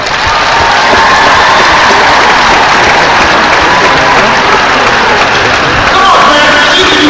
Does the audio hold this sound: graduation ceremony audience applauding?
yes